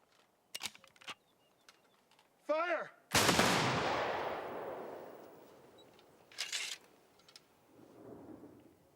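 A period battle volley of rifle fire from a line of soldiers: one loud, sharp simultaneous crack with a long rolling echo, preceded by shouted commands and followed by quieter voices.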